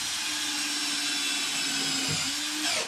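A power drill whines steadily at close range for about three seconds, driving a self-tapping screw into a pre-drilled hole to anchor a bus floor edge, with a brief dip in pitch near the end.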